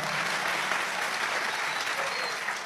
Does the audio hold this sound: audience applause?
yes